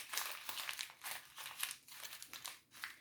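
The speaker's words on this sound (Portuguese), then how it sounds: "eu tenho aqui na minha mão, tá, uma folha de papel, ofício A4, e eu vou" A sheet of A4 office paper crumpled by hand, giving close, dry crinkling and crackling in repeated bursts that swell and ease over about three seconds, with no voices.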